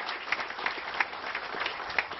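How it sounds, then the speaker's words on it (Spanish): A crowd at a street and bridge inauguration breaks into steady, moderately loud applause, with a few sharper claps standing out from the even wash. "démosle un fuerte aplauso"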